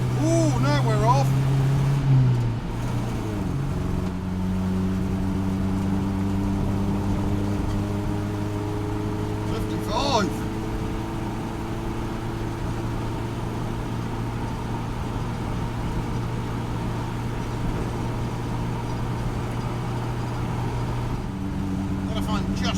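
A Bedford CF van engine running steadily as the van drives off, its low drone rising and settling through throttle changes, with a brief rev partway through and someone talking over it at times.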